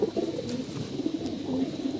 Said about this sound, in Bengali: সব কটা কবুতর ডাকাডাকি করতে আসছে